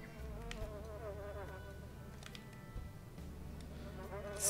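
Flies, bees or mosquitoes buzz steadily in a farm field in the farming game Landwirtschafts-Simulator 2017, a faint continuous drone over low background hum.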